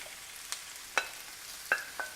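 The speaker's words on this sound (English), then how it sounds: "So I'm going to grab my bamboo spatula and slowly put in my zucchini." Zucchini slices are eased into a hot pan with a bamboo spatula, giving a few faint, brief clicks and scrapes over a quiet low sizzle, spaced irregularly and heard up close.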